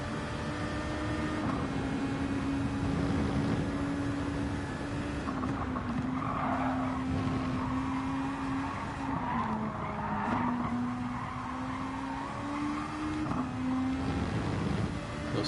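A race car tire squeal during an oversteer slide at Suzuka in a racing game, a sustained skidding screech that wavers over a loud, steady engine drone.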